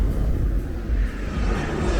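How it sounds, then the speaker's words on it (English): Private jet flying overhead above Chaweng Beach on Koh Samui: a steady, broad rumbling roar that holds even and moderately loud for the whole stretch, with no voices. "That's not like a normal Bangkok Airways plane, that's a jet. Like a proper private jet."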